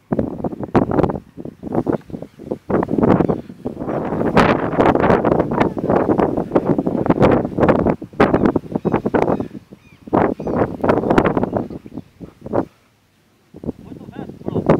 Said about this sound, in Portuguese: Muito vento, pronto.